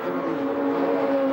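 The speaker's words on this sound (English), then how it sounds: "Mercedes driver Bernd Schneider spun the Opel of Eric Ellery late in the race." Opel DTM touring car engine droning steadily at high revs during a 2000 race, a loud continuous harmonic roar with no break.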